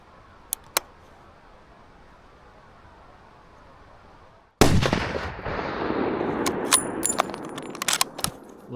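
A hunting rifle fires once out in open canyon country: a single sharp, loud blast after near-quiet and a couple of faint clicks, then a rolling echo that decays over several seconds.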